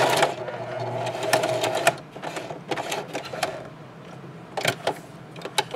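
Sewing machine back stitching the end of a two-color scrub cap, a close, steady mechanical whir in short runs with brief pauses, with faint talk in the background.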